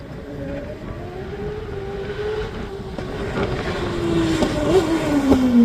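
A Suzuki-engined race car on a hillclimb course, engine note rising in pitch as it climbs closer and grows louder, heard from the roadside with a steady rushing background.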